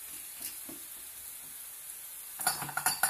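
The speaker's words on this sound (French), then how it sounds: "je vais mettre de l'huile d'olive pour faire légèrement sauter les tomates cerises" Cherry tomatoes hit hot olive oil in a pan, a quiet hiss at first that swells into a brighter sizzle with a few sharp pops near the end, heard close and alone.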